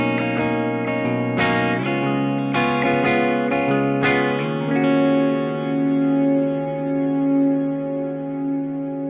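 A few distorted electric guitar strums through a Quad Cortex build into a sustained chord that rings out with a long, washy reverb tail, no voices present.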